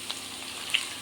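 Bitter gourd pieces frying in a pan without salt, a soft steady sizzle with a couple of faint crackles, moderately quiet and close.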